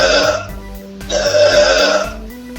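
A Disney Pixar character plush toy gives out a few loud, drawn-out electronic burps, each dropping in pitch, close by, one after another.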